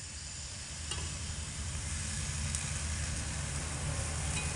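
Steady, soft sizzle of a spice mixture frying in a pan as tomato sauce goes in, for a potato and flour snack; a faint continuous hiss with no clear splash, no voices.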